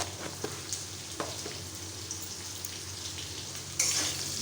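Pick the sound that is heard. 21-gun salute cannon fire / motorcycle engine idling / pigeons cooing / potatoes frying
potatoes frying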